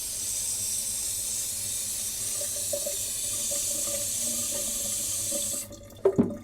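Tap water runs steadily into a bathroom sink while a small supermarket orchid's roots soak, a constant hissing flow that cuts off near the end, followed by a couple of brief knocks and splashes.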